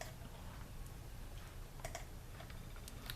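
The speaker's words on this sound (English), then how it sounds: "that's what we're going to be typing into those boxes" Keys tapping on a computer keyboard, a faint, steady run of light clicks with a few slightly sharper strokes, close by over a low background hum, with no talking.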